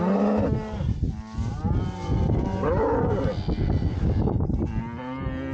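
Cow in heat on a farm lowing repeatedly in long, loud, drawn-out moos close by, with a steady rural background and no talking.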